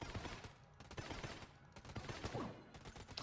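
Rapid bursts of gunfire in Enter the Gungeon, a fast stream of sharp shots layered over a busy background, fairly quiet overall.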